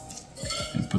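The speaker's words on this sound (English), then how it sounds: "we're going to go ahead and get these skewered up now" Picanha steak pieces are pushed onto a rotisserie skewer, giving close, short metallic scrapes and light clinks that grow louder toward the end.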